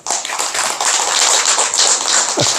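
An audience breaks into applause during a Buddhist lecture on the Diamond Sutra, loud, dense clapping that starts abruptly and carries on steadily, with no talking over it.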